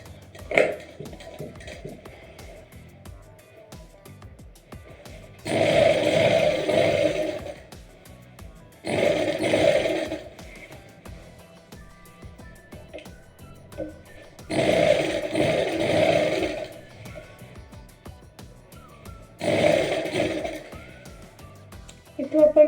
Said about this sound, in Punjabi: ਇਹਦੇ ਬਿਲਕੁਲ ਹੀ ਕਿਨਾਰੇ ਕਿਨਾਰੇ ਤੇ ਵੀ ਆਪਾਂ ਸਿਲਾਈ ਲਗਾ ਲਾਂਗੇ